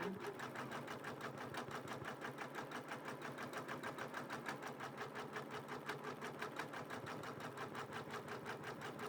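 A Janome embroidery machine stitches a butterfly antenna applique in a quilt hoop, its needle hammering in a steady fast rhythm throughout, close and even, with no one speaking.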